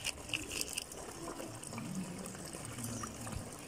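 Water being poured out and changed while vessels are washed, a steady splashing pour that runs for a few seconds at moderate volume, without talking.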